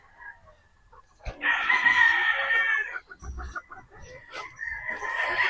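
Boston Roundhead gamefowl roosters crow loudly and near, in long drawn-out calls, one after another. Softer clucks and farmyard noise fill the gaps between crows.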